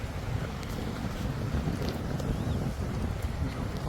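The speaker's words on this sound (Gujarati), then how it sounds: "ઠંડો ઠંડો પવન આવે છે." Cold wind blows by a river in hilly country, a steady rumbling rush that buffets the microphone throughout, with no voices.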